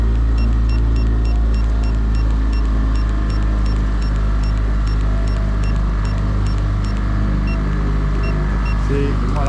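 A 2018 Alumiweld 23 Super V tiller jet boat with an F250 outboard, its engine droning loud and steady with a deep rumble as the throttle holds speed, faint beeps recurring above the noise.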